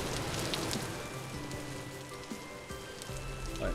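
Heavy rain pours steadily over a game world, a dense, loud hiss of drops on surfaces filling the whole stretch without pause.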